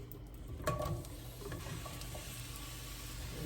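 Mushrooms fry in a skillet over medium heat in a little butter and olive oil, giving a steady, soft sizzle with faint scraping stirs near the start.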